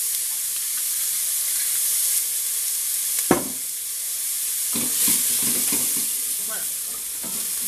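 Garlic and onion fry in oil in a pan, a steady close sizzle with a few sharp crackles and stirring scrapes through the middle and later part.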